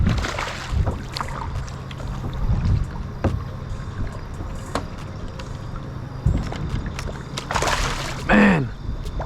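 Kayak paddle strokes in river water while fishing for smallmouth bass on the Grand River, with irregular sloshing and dripping splashes, hull knocks and light wind buffeting on the microphone.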